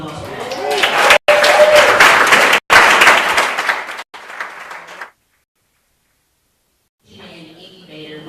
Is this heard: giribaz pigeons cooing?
no